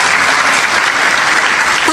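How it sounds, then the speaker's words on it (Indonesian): A church congregation claps together in steady, dense applause, loud and close, filling the whole moment without a break. "Tepuk tangan buat Tuhan."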